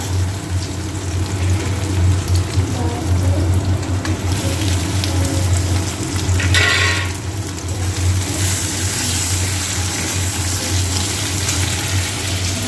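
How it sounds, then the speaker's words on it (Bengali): Clams frying in a pan with salt and turmeric, a continuous dense hiss like rain, steady and fairly loud with a brief brighter burst in the middle. "এবার এটাকে ভালো করে ভেজে নেব দেখো কীরকম ভাজা হলো"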